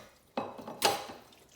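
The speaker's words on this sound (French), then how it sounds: "Je retire la casserole du feu." Metal saucepan lifted off a stove during pasta cooking with penne, lardons and saffron sauce, giving two quick clanks of cookware, the second a brighter ringing metallic knock, close and fading fast into a quiet kitchen.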